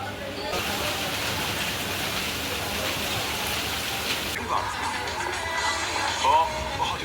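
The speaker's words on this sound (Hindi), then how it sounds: "अचानक स्टार्टेड रेनिंग हेवी" Steady rain hisses down in a dense, constant wash, loud and close, with a voice faintly audible beneath it.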